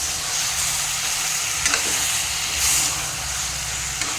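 Tomatoes go into a pan of frying mutton curry, raising a loud, steady sizzle with bright steamy hiss and a few sharp crackles and stirring scrapes, close up. No voices are heard.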